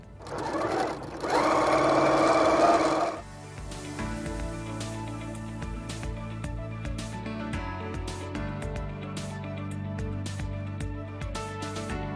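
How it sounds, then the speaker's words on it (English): A sewing machine stitches quilt fabric with a quarter-inch seam, first a short fast whir, then a steady, close rhythmic run of needle chatter that continues to the end. "I can take this to my machine and sew it using a 1/4-inch seam allowance."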